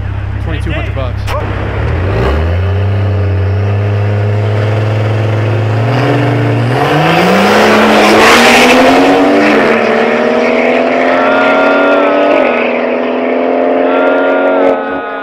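Street race cars, a 340 and a 240, idle and then launch in a drag race, engines revving hard and climbing through gear changes in a loud, sustained roar under a crowd talking.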